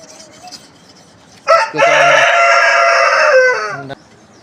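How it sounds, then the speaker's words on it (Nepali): A chicken of a local layer breed crows loudly and close by in one drawn-out call of about two seconds, with brief clucks before it and no talking. "यो चाहिँ यो कुन जातको कुखुरा रे भाइ?"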